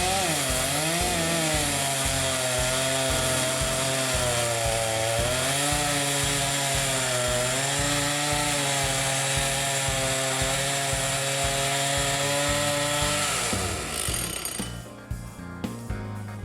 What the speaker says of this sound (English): The saw's going again now, and the tree is getting ready to go.